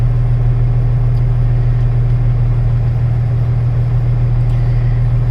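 A truck's diesel engine idles steadily during a DEF regeneration cycle, a loud, constant low hum and drone with no change in rhythm throughout.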